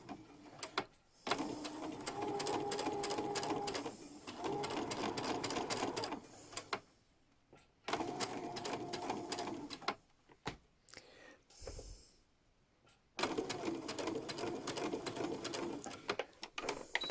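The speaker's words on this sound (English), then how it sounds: "we'll take that over to the machine and sew it" A sewing machine stitches a dress seam 4 millimeters in, running in several rapid, rhythmic bursts of mechanical clatter separated by short pauses, close and clear.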